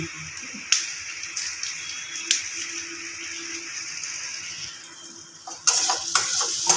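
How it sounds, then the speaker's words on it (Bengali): Spices are stirred with potatoes in a pan over a medium gas flame, with a soft sizzle under repeated spatula scrapes and taps that grow busier and louder toward the end. "খুব ভালোভাবে নাড়াচাড়া করব গ্যাসের ফ্লেমটা এই সময় মিডিয়ামে রাখবো"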